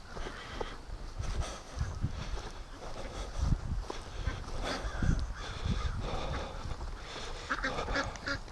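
Free-range ducks calling in a busy chorus at a swamp during morning chores, with overlapping raspy quacks and honks close by, steady throughout with louder bursts.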